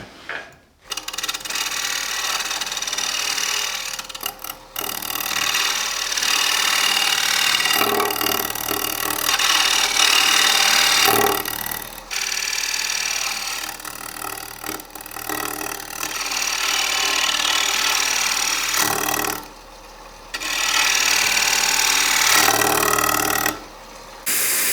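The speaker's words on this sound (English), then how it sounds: "And now scrape the last part." Hand scraping of a wooden oval box with a threaded lid, a dense continuous rasping close by in long strokes broken by a few brief pauses, loud and with no talk.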